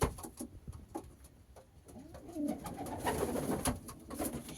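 Domestic pigeons, including males, cooing softly in low throaty rumbles, with fluttering and scratchy shuffling sounds nearby, fairly quiet and continuous.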